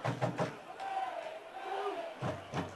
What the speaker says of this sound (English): Listening to the crowd out here, they love Derek Crane.